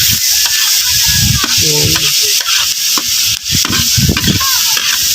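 Garlic frying in a pan, a loud, continuous close sizzle with repeated scraping stirs of a utensil, and a brief spoken word.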